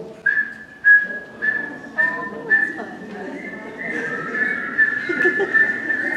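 A person whistles to imitate the call of a Strecker's chorus frog, giving a series of short, high-pitched whistled notes close by, several brief rising pulses that then run into a longer wavering whistle.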